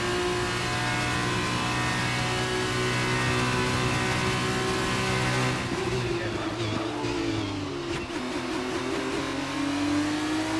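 Formula 2 race cars accelerate around the Jeddah circuit, their engines a sustained buzzing whine whose pitch dips and climbs as they pass, with faint talk underneath.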